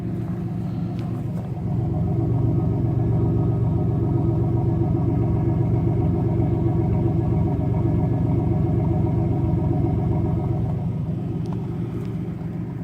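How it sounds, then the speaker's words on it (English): A 1991 Oldsmobile Toronado Trofeo exhaust idling with a deep, steady burbling rumble, close by and fairly loud, holding an even tone throughout. "That's a nice sounding exhaust right there."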